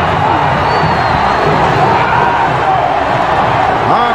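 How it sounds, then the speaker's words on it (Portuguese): A stadium crowd roars and cheers a goal in the Paysandu vs Remo derby of the Copa Verde, a dense, steady wall of loud voices and whoops that holds throughout. "Vibração da torcida."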